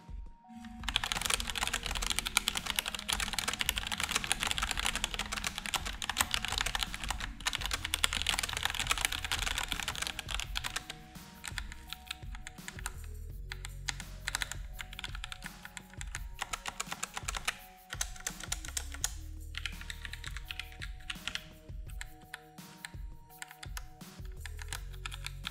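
Typing on a Roccat Vulcan 120 mechanical gaming keyboard, with rapid continuous key clicks and clacks, close and steady, with occasional short pauses and heavier bottom-out thumps, no voices.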